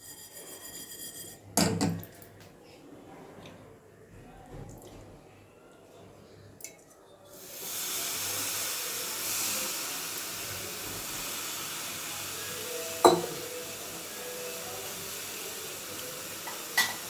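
Sesame seeds tipped into a hot pan for a chicken, cashew and almond curry set off a steady broad sizzle that rises suddenly and holds, with a few sharp clinks of utensil on pan.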